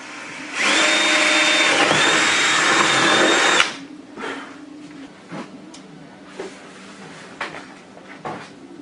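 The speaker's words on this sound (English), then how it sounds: "We're going to drill it out really quick right now." A loud, steady power drill whines for about three seconds, drilling a car body kit, then stops, followed by scattered clicks and light handling noises.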